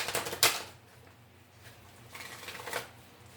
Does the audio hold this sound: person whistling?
no